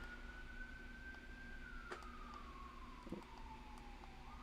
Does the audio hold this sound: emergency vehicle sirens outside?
yes